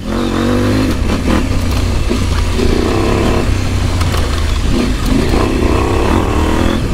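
A rally motorcycle with an Akrapovič exhaust revs loudly and steadily close by, its engine note rising and falling in a continuous throaty drone.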